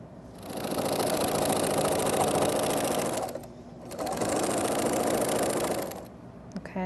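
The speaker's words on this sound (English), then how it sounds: "we're going to take it to the machine and we're going to sew right along here" Close up, a sewing machine stitches a T-shirt rag quilt in two steady runs of a few seconds each, with a short pause between them. A brief clatter follows at the end.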